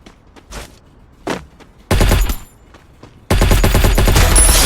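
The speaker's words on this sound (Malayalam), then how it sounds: "ഞാൻ പുറത്ത് ഇറങ്ങിയാൽ അവൻ എന്നെ വെടിവെക്കും," Gunfire from the Free Fire battle royale game, with sparse single shots giving way to two dense bursts of rapid automatic fire that grow loud and sustained toward the end.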